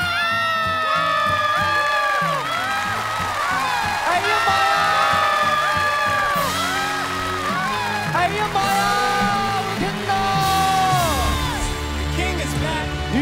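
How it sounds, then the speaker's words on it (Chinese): A television studio audience on a Chinese music show claps and screams loudly, with yells and whoops rising in repeated bursts over a dense, sustained crowd roar and what may be music underneath. "请现场报以热烈的掌声和尖叫声"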